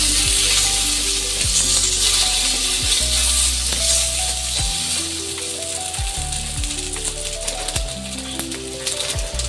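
Curry leaves crackling and sizzling in hot oil for a lemon pickle, a loud continuous fry close up with rattling stirs and scraping throughout.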